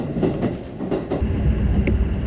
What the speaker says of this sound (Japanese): 塩尻駅から中央西線の中津川行き普通電車に乗車。